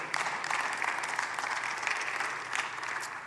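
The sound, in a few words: church congregation applause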